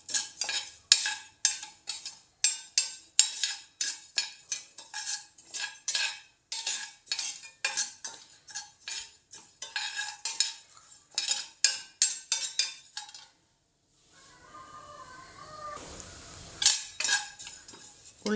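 Black urad dal dry-roasts in a pan: quick, regular rattling scrapes of a metal spoon stirring the dry lentils, close and crisp, before a short pause and a softer stretch near the end.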